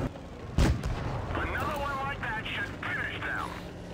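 In World of Tanks Blitz, a single tank cannon shot booms nearby. A player keeps talking over the rumbling battle background.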